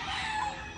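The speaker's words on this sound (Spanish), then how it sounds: "aquí les voy a enseñar algunos de los pollos, hijos de esos gallos." A rooster crows, a drawn-out strained call over a background of hens and chicks clucking, moderately close.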